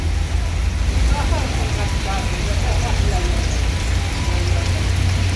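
Steady rain falls at a bus station in Palembang, a dense hiss over a low rumble of idling vehicles, with voices faintly talking beneath it.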